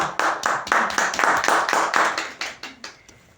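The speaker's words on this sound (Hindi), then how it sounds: "जोरदार तालियां सुनील भाई के लिए।" About a dozen quick, even handclaps ring out in a steady burst, fairly close and loud, then soften and trail off near the end, with no talking over them.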